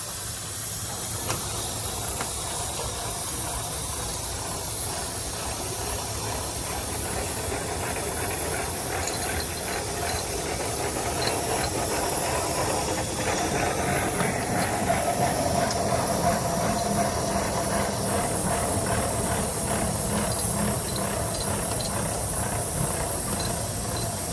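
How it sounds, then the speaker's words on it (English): A Minneapolis steam traction engine, number 8370, runs at a steam show in Halltown, Missouri, with a steady loud hiss of steam and a dense mechanical churn that has faint rhythmic chuffing. The sound is continuous and close, and no one speaks. "Minneapolis engine, number 8370."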